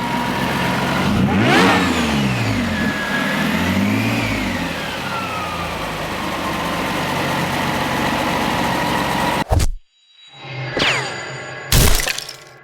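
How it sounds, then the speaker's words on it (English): A supercharged Toyota Hilux engine revs hard several times, its rising supercharger whine sweeping up and down over the throaty exhaust, close and loud, before cutting off and giving a couple of short sharp blips. "Make the charger really spool up."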